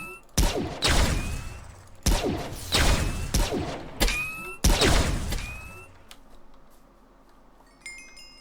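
A weapon fires repeatedly in a modded Minecraft game as a series of loud, booming blasts about a second apart. Each blast has a ringing tail, and quieter game noises follow.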